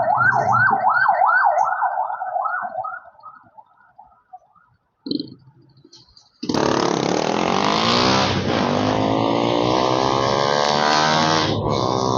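A wailing ambulance siren cycles rapidly up and down, then fades; after a short lull, a loud, steady blaring tone starts and holds to the end.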